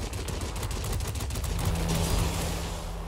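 An aircraft machine gun fires dense, continuous rounds during a strafing run in World of Warplanes. The roar is loud and steady and swells slightly toward the end.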